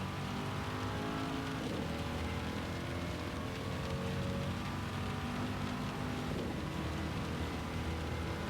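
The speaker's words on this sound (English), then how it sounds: "the rain really is starting" Rain falls on the track during a Gran Turismo 7 race at Le Mans in a Mk IV race car, a steady hiss of spray blending with the continuous engine drone throughout, loud and unbroken.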